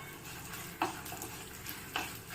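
Lentils dry-roasting in a pan for curry leaf thuvaiyal give a faint, steady crackling hiss, with two brief scraping stirs standing out. Close but quiet, with no voices.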